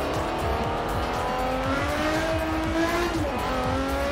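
The Quartz Regalia in Forza Horizon 4 drives with a loud, continuous engine drone that rises and falls in pitch as it revs, with rough low rumble throughout and no pauses.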